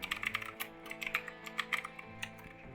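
Fingers tap out a name on a computer keyboard in quick, uneven bursts of crisp close clicks over a faint steady background hum, with no speech.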